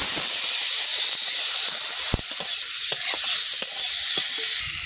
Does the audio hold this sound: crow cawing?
no